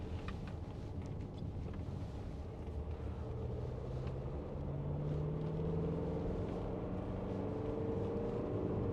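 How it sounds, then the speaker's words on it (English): A low, steady diesel engine drone from inside a moving 2017 Mercedes-Benz GLC220d, with a gently rising and falling pitch and constant road rumble. "Engine sounds really good."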